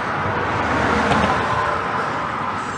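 Steady traffic noise of cars driving past on the road to Clearwater Beach, a continuous broadband roar that swells slightly midway and stays close and loud with no talk.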